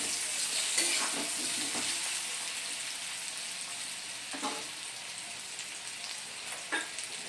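Aloo katli mixture being gently stirred with ground coriander and garam masala, a soft continuous scraping and sizzle in the pan with a few brief louder scrapes, no voices.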